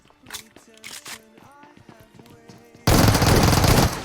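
Gunfire in the mobile game PUBG Mobile, S12 shotgun: clipped in-game footsteps and short sharp sounds, then a sudden loud, dense blast of noise lasting about a second near the end; someone talks under it.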